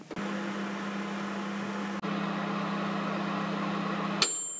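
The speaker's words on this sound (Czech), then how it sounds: "dáme na nejvyšší stupeň mikrovlnce" A microwave oven at its highest power setting, baking a quick mug cake, hums steadily with a brief click partway through, then stops with a sharp beep.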